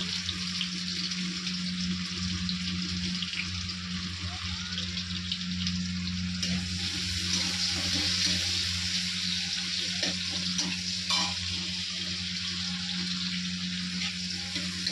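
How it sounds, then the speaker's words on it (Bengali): Garlic frying in a pan with a steady, continuous sizzle and crackle, close by, joined by a constant low hum with a few faint clinks and no voices. "রসুনটা একটু ভাজা করে নিচ্ছি"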